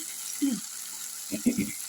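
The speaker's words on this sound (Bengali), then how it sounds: "টমেটোটা পেঁয়াজটা আমার মোটামুটি ভাজা হয়ে যাচ্ছে" Tomato and onion fry with a little salt in a pan, giving a steady soft sizzle throughout, with a couple of low murmurs or stirring bumps underneath.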